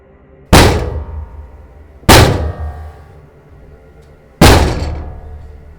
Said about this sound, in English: Three solid knocks.